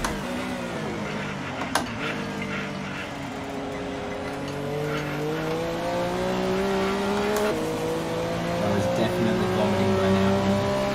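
Mercedes-AMG GT R lapping the Nordschleife in a racing sim game, its engine note rising and falling steadily through gear changes for the whole stretch, with a brief click near the start.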